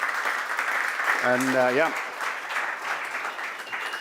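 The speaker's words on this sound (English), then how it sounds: "Just a round of applause, guys, for the great minds and what we're about to see as well." An audience at a gaming hackathon event applauds, a broad wash of clapping that fills the room throughout, with someone briefly speaking over it.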